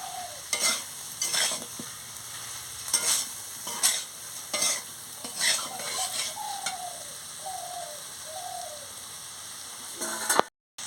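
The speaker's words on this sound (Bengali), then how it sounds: "পরিমাণ মতন নুনটা দিয়ে দিচ্ছি সামান্য মিষ্টি দিয়ে দিচ্ছি দিয়ে ভালো করে নাড়িয়ে নিচ্ছি" Yam and potato curry with salt and sugar is stirred in a pan, giving several scraping stir strokes over a soft sizzle, while a bird coos faintly in the background before an abrupt cut.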